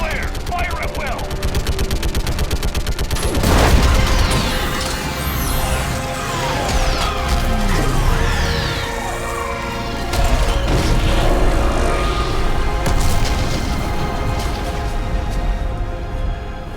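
Gunfire and explosions in the Mass Effect 3 video game during a Geth and Quarian war battle, with dense rapid shots, heavy booms and crashes running throughout, loud and continuous, with voices shouting over the combat.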